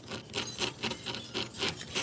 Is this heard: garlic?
no